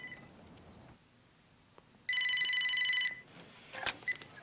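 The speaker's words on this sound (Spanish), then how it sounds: "coge el teléfono" A telephone rings in the office of a swamp wildlife refuge. One bright electronic ring lasts about a second, with faint room noise and brief small sounds before and after it.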